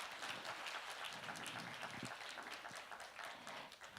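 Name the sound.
applause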